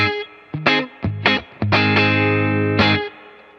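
Distorted electric guitar on the neck pickup through a Vox AC15 tube amp plays a few chopped notes, then rings out on a sustained chord, with a warm, full tone, loud and close.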